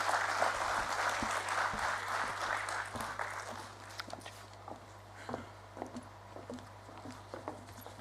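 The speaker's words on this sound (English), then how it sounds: "Please give her a big round of applause." Applause from a conference audience at a G20 business meeting in Nagaland, dense clapping at first that thins out into scattered individual claps toward the end.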